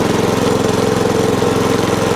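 A Hayter Hayterette lawn mower engine, freshly running after a carburettor fix, holds a loud, steady, throbbing idle close by with an even rapid pulse and no pauses.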